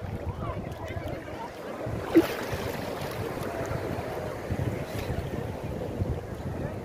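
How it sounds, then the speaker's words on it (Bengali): Strong sea waves at Gangasagar roll and wash continuously, a broad steady roar mixed with wind buffeting on the microphone, with one brief sharper splash partway through. "একটু ঢেউ এলো জোরে"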